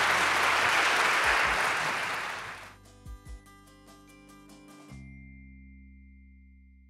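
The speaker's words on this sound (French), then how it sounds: "Et je pense qu'on peut tous s'applaudir." A ceremony audience marking a 50th anniversary claps loudly for nearly three seconds, then the applause fades out and gives way to quiet room tones and a few soft thumps and chimes.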